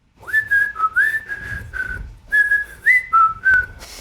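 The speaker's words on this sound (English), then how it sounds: "I can whistle." A person whistles a short melody alone, clear and close, in two phrases of sliding, bright tones with a brief pause between them.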